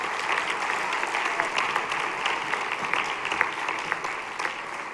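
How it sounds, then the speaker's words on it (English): A school winter concert audience applauds a high school percussion section. The clapping is full and steady and crowd-wide, holding at an even level throughout. "Can we get one more round of applause for them"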